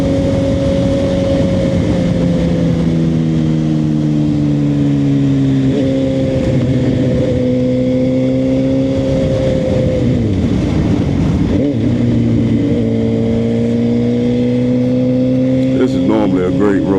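A Suzuki GSX-R 750 motorcycle rides along a road, its engine droning steadily close by with gear changes and rising and falling revs, under wind noise and occasional talk.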